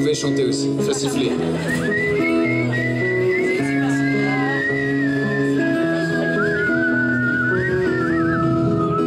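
A whistled melody from a concert audience drifts over a steady musical backing, with clear held notes and sliding pitches throughout.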